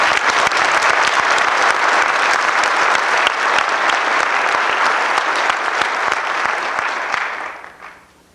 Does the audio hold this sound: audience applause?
yes